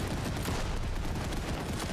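Dense, continuous gunfire from a video game, a steady rattling barrage with no pauses, close and even in loudness throughout.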